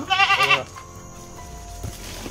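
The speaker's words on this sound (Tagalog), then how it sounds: "Dito lang yung kanding." A goat bleats loudly and close by in a quick wavering burst of several pulses, then only quiet background remains.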